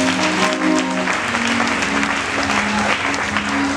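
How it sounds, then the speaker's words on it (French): A church congregation at a healing-week service bursts into sustained, loud applause, a dense wash of many hands clapping continuously and close around, with faint voices mixed in. "Acclamez le Saint-Esprit."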